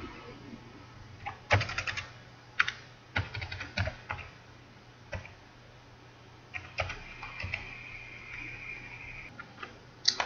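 Keys clacking on a computer keyboard as a UAN number is entered, in short irregular bursts of close taps with pauses between groups, a soft steady hum underneath.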